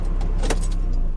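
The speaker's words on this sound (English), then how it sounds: "Turn off the car." A van's engine idling steadily nearby, with a brief jangle of keys as it is switched off and the low hum continuing.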